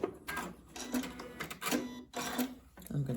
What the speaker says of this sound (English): So I'm sewing this with a 1/4 inch seam allowance, and I'm going to backstitch here at my beginning